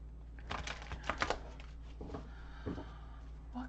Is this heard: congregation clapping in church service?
no